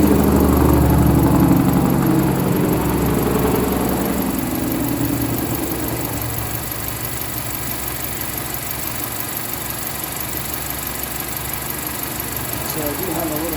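2017 Honda CR-V engine idling with a leaking exhaust flex pipe, a steady close mechanical running sound with fine rapid ticking pulses, louder at first and then settling, with a voice talking over it.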